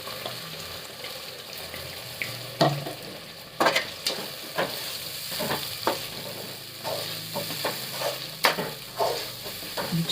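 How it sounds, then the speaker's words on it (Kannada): Masala paste fries in hot oil while being stirred, a steady sizzle broken by sharp, uneven bursts and clatters from the spoon moving the paste around the pan. "ಚೆನ್ನಾಗಿ ಎಣ್ಣೆ ಬಿಡೋ ತನಕ ಫ್ರೈ ಆಗಲಿ ಇದು ಮಸಾಲೆ."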